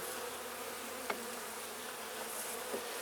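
Honeybees from a dying hive raided by yellowjackets hum in a faint, steady drone while being brushed off frames into grass, with one or two brief soft knocks.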